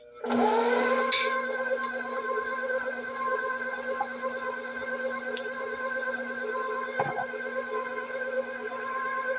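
An electric mixer runs on its second speed through lemon pecan pound cake batter, a loud steady whirring drone starting abruptly and holding for the whole stretch with no talking.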